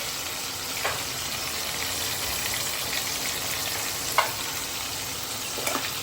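Steady sizzling and crackling of food frying in oil, with a few sharper pops standing out over the continuous hiss.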